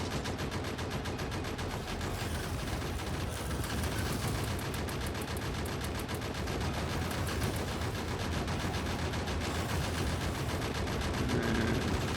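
Gun turrets in the Factorio video game fire rapid, continuous bursts at a biter nest, a dense machine-gun rattle that stays fairly even and moderately distant throughout.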